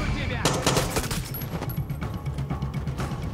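Enemy gunfire in Far Cry 6 crackles in dense, rapid bursts of automatic shots at close range, loud and continuous across the moment, with faint voices in the mix.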